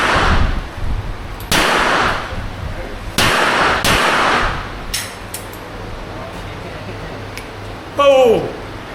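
Gunshots at a shooting range in Thailand: a few loud, sharp cracks spaced a second or two apart, close by with ringing decay, followed by a short clatter near the end.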